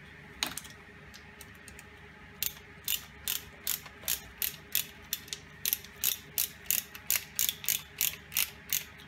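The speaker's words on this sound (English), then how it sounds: "Now, you can take a screw, just put it in there." A screw driven into a demo immersion cooling build using 3M Novec, with a quiet, steady series of ratcheting clicks from the driver repeating at an even rhythm, close up, with no talk.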